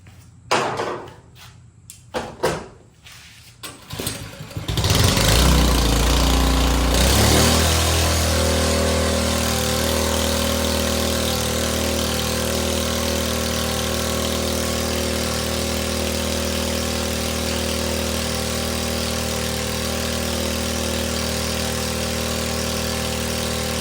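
A Predator small engine is pulled over with a few rough cranking bursts, catches, then settles into a steady, loud, close idle that runs on evenly to the end, with no talking.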